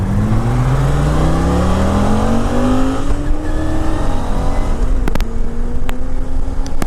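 A Triumph Speedmaster motorcycle revs and accelerates loudly up close, its engine pitch climbing through gears and then settling as it rides on.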